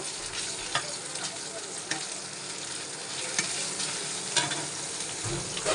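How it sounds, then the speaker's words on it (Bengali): Ginger garlic paste frying in hot oil in a nonstick pan over already fried onions, giving a steady close sizzle broken by a few sharp spatula taps and stirring scrapes. "এখন আদা রসুন পেস্ট দিয়ে দিব, দিয়ে তেলে একটু ভাজা ভাজা করব।"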